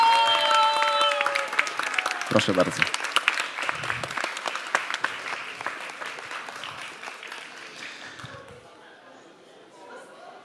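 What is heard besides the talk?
audience applauding at awards gala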